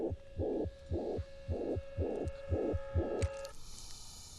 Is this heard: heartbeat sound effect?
yes